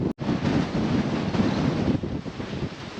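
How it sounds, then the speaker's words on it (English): Strong, steady wind of about 30 knots high on Qilai Mountain in Taiwan buffets the microphone with a loud broadband roar, briefly cutting out at the start and then blowing continuously. "It's probably blowing 30 knots of wind right now."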